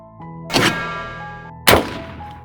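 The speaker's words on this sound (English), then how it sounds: "the metallic clang of the trap being set off, followed immediately by the gunshot" A trap set off in the woods at night gives a loud metallic clang with a ringing tail, followed about a second later by a sharp gunshot-like bang that decays slowly, both close and with no talking.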